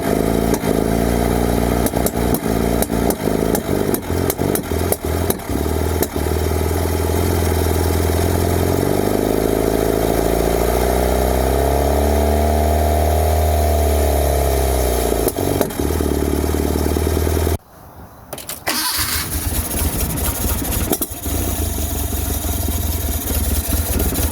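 Engine of an abandoned Bedford Rascal van running at its first start in six years, idling loud and steady with rising and falling revs mid-way and a brief stumble near the end.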